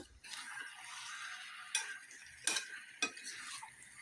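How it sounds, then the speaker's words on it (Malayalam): Chicken with curry leaves being stirred in a pan while making chicken roast, a quiet soft sizzle with several distinct scraping and clinking strokes of a utensil, close and faint. "ചിക്കൻ ഇട്ട് കൊടുത്തതിന് ശേഷം ഇതോടൊപ്പം തന്നെ കുറച്ച് കറിവേപ്പിലയും കൂടി ഇട്ട് നമുക്കിവ രണ്ട് മിനിറ്റ് നല്ലതുപോലെ ഒന്ന് ഇളക്കി യോജിപ്പിക്കാം"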